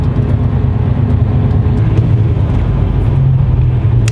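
A truck rolls past into a factory site, its steady low engine rumble loud and close throughout, with no talk.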